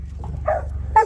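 A dog barks twice outdoors, close and fairly loud, after a faint softer yip, with a quiet low rumble underneath.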